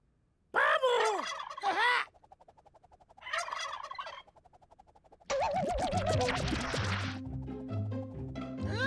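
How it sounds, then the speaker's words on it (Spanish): A turkey gobbles in loud, rapid warbling bursts, three separate calls with short pauses between them, the last one running into a bright musical jingle. "¡Pavo!"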